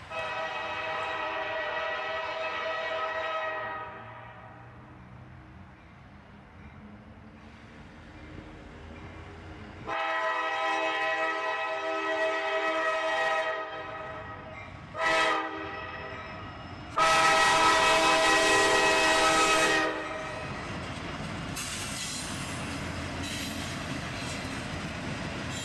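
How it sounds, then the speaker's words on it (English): A northbound mixed manifest freight train led by an EMD SD70MAC locomotive sounds its horn in several long, loud blasts over the steady rumble of rolling wagons passing close by. "northbound mixed manifest train with an EMD SD70MAC in the lead"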